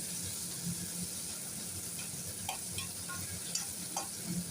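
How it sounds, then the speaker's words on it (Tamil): Eggplant pieces sautéing in a pan for brinjal rice, a soft continuous sizzle with occasional light clicks and scrapes of a spatula, fairly faint and steady throughout. "எல்லா கத்திரிக்காயும் போட்டு நம்ம அப்படியே வதக்கி எடுத்துருவோம்"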